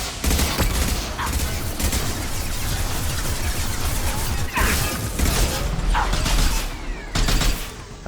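Guns firing at close range in the video game Mass Effect 2, Kasumi's loyalty mission: loud, dense bursts of shots and mechanical clatter run almost continuously, with sharper cracks recurring every second or so.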